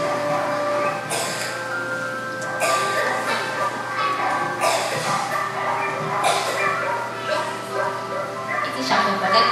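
A puppy shut in a small cage yips and whimpers in a recording played back in a classroom. Short repeated high cries recur every second or two throughout, while a speaker talks over them.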